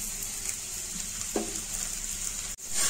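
A paratha cooks in ghee on a hot tawa, giving a steady close sizzle and hiss that holds evenly throughout, with a faint clink of a utensil near the middle.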